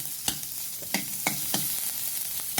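White onion sautés in a pan, a steady sizzle broken by sharp spatula scrapes and taps every fraction of a second, close, with no voices.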